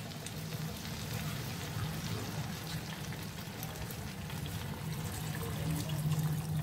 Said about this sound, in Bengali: আমার বানিয়ে রাখা গরম জল আমি দিয়ে দিচ্ছি